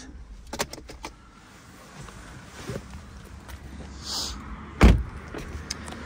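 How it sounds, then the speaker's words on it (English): Keys of a 2016 Mini Cooper 1.5 petrol coupe jangle briefly in a few light metallic rattles up close, with a louder knock near the end against faint background noise. "And then you've got two keys as well"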